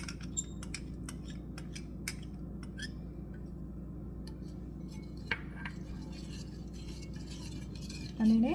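Idli batter with a spoonful of soy sauce stirred in a bowl, soft scraping and faint clinks of a spoon over a quiet room hum, with a brief louder knock at the end.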